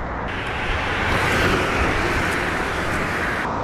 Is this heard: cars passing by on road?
yes